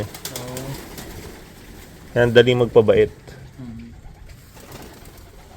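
Pigeons coo in short throaty phrases close by, a racing-pigeon fancier's loft in Sacramento, while someone talks over and between the calls.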